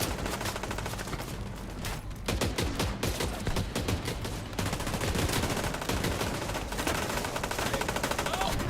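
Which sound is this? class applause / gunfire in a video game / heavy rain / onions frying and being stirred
gunfire in a video game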